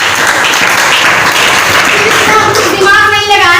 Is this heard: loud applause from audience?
yes